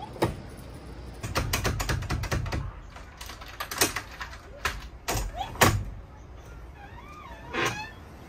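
A key turns in the lock of a locking rear hatch on a converted short school bus, giving a run of sharp metallic clicks and rattles, near and fairly loud, with a few faint chirps near the end.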